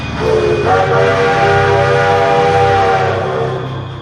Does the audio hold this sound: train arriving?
yes